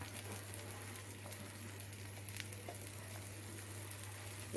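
Faint, steady sizzle of oil in a pan while frying Kerala kalathappam, a rice and coconut cake, with soft crackles and a low constant hum underneath.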